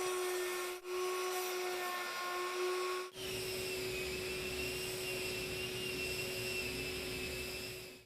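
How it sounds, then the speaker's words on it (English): A handheld trim router runs steadily while rounding over tabletop corners along a shop-made template, a continuous high-pitched motor whine with a tonal hum, close and loud. Two brief dips occur early as the tool catches or shifts. "Then I round over the corners with a trim router and the simple shop-made template."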